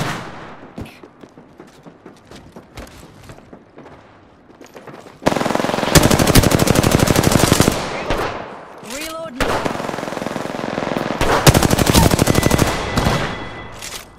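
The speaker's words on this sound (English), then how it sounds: "I am taking fire, friends." Video game gunfire hits the player, with sparse shots at first and then loud sustained machine-gun bursts and rapid fusillades that go on for several seconds, broken by short gaps.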